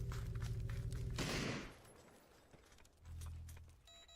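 An explosion in a competitive multiplayer video game match, with a grenade going off: a sudden broadband burst around a second in, followed by a decaying tail over background game sounds.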